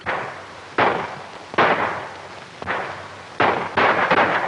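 Dynamite blasts in an old western film, heard as a series of five sharp, booming explosions at irregular intervals, each with a short rumbling decay.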